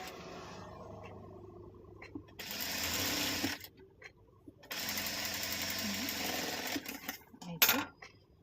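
Sewing machine stitching a fabric pouch made from old cloth scraps, running in two loud, fast bursts separated by pauses with faint handling noises and a voice between.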